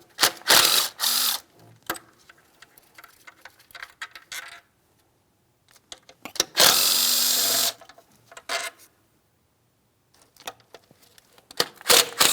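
Ratchet strokes on the intake bolts of a Ford Edge 3.5L, with bursts of rapid clicking separated by pauses and longer continuous spins, close and with no talking.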